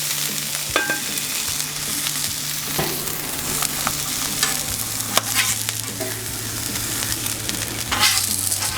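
An egg fries on a flat-top Blackstone griddle beside toasting muffins and Canadian bacon, a close, even sizzle with spatula taps and scrapes throughout and no voices.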